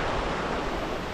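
Rhine river water rushing through a valley between Oberalppass and Ilanz, a steady, loud broadband roar with no breaks and no voices over it.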